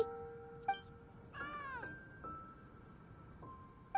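A cat gives a single drawn-out meow, close and fairly quiet, surrounded by faint electronic beeps and tones in a calm room.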